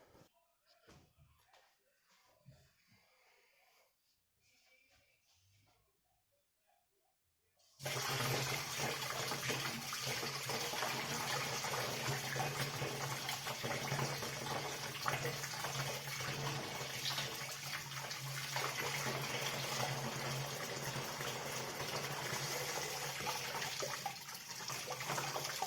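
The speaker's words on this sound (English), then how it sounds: "you're going to tip it through the strainer into your" Sugar-and-hops water tips through a strainer into a fermenter, starting abruptly after a quiet opening as a loud, steady, broadband gush of splashing liquid that continues unbroken to the end.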